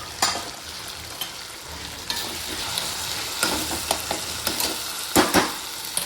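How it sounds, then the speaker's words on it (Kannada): Tomatoes fry in a pan for black chana curry, a continuous sizzle broken by scattered clicks and scrapes of stirring, with no talking. "ಒಂಚೂರು ಇತ್ತೆ ಟೊಮೆಟೊ ಬೇಯಾಡು ಬಾಯಿ ಮುಚ್ಚಿ ದೀಲೆ ಒಂದು 2 ನಿಮಿಷ ಟೊಮೆಟೊ ಬೇಯಾಡು"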